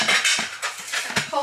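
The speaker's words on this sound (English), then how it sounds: "We're going to collect these up, move them over to the sink." Dirty dishes from an untidy kitchen are gathered up and carried to the sink, with repeated close clinks and clatters of plates and cutlery and brief talk over them.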